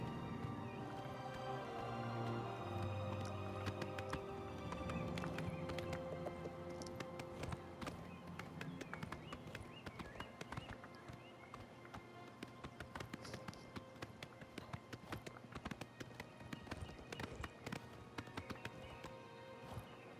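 Horse galloping in the Elder Scrolls IV: Oblivion Remastered video game, a steady run of hoofbeats with close breathing layered over game music that fills the background throughout.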